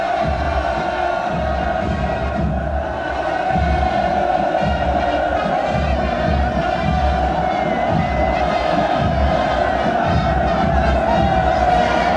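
A large crowd cheers and roars continuously at a North Korean military parade in a city square, a dense, sustained wall of voices with no breaks.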